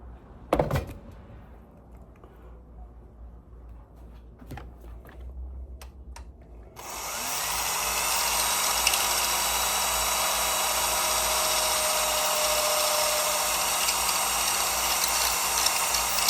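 A powered reamer enlarges the hole in a washer, starting after a few knocks and taps with a sudden, steady high-pitched whine that holds loud and close to the end.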